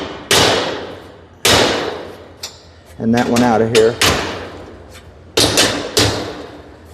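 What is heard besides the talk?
hammer tapping garage door part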